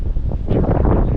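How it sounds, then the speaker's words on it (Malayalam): Strong wind buffets a hilltop campsite, rushing and roaring loudly against the microphone in continuous gusts with no speech. "നല്ല കാറ്റുണ്ട്."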